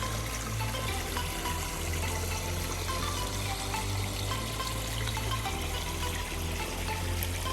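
A backyard pondless waterfall pours over boulders and pebbles close by, producing a loud, steady, unbroken rush and splash of flowing water without any talk.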